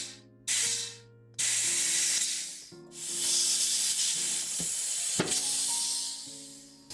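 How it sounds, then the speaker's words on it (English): An air compressor blowgun hisses air into the fitting of a Mercedes W212 E-Class Airmatic rear air suspension bag, loud steady bursts with brief gaps and a few clicks, no talking. "I'm going to use my air compressor. Open that up. Just blow a bit of air into the fitting."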